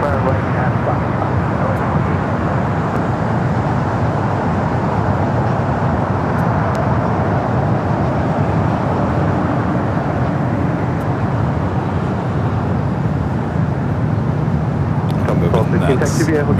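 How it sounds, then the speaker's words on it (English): A Delta A319 airliner lands on the south side at LAX, its engines giving a loud, steady roar that holds for the whole stretch, with someone talking over it. "It's Delta A319 coming in from Kansas City, landing here on the south side."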